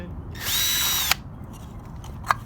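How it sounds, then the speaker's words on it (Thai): A power drill bores a hole through a plastic seed-starting container, whining in one sustained, close burst of about half a second, then falling silent except for a couple of sharp clicks. "เจาะหู้ตรงกลาง หู้หนึ่ง"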